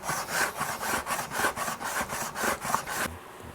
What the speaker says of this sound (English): Wait till we shine this up with some sandpaper.